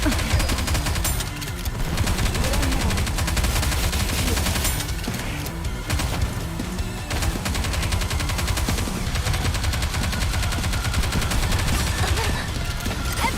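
Gunfire and bombardment in the video game Nikke, a continuous loud barrage of rapid machine-gun fire with heavy booming impacts that runs without a break for the whole stretch.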